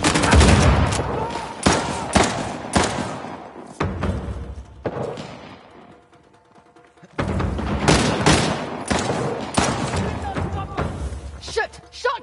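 Shotgun blasts and bursts of gunfire ring out in a firefight in Uncharted The Lost Legacy, loud sharp shots in rapid clusters, a short lull, then renewed heavy firing, with voices shouting among the shots.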